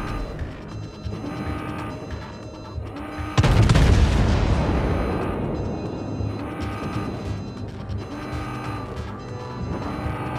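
Battleship guns fire in a naval video game, apparently the USS Missouri, as one huge booming blast followed by a long rumbling decay, over a steady mechanical engine hum with faint radio chatter.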